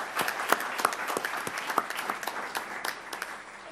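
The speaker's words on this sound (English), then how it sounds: "Let's give them a round of applause." An audience at a county meeting applauds for birthdays, a moderate round of clapping with several distinct sharp claps near the front, tapering off over nearly four seconds.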